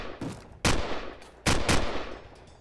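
Gunfire in the Minecraft game The Walking Craft: a few sharp, loud shots in quick bursts, close and alone with no talk.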